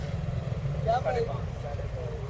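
An old 1998 Suzuki Khyber car runs at idle at a used-car market, giving a steady low, even engine hum throughout while someone talks over it.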